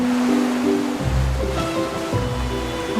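Steady ocean surf washes continuously in front of a beachfront villa in Vietnam, a broad even roar of waves with low rumbling undertones, heard close and fairly loud with no voices.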